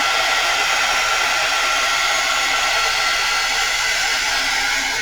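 A heat gun blows hot air for a craft project, producing a steady, loud, close whooshing hiss that runs unbroken throughout.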